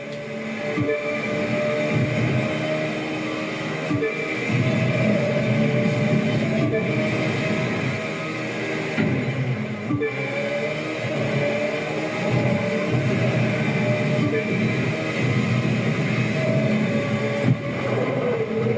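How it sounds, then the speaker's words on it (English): The Seattle monorail passing alongside a race in The Crew 2, a sustained rumbling rail-car hum with tonal whine and engine noise mixed in, loud and continuous for the full stretch. "Racing alongside the Seattle monorail here, another landmark built for the 1962 World's Fair."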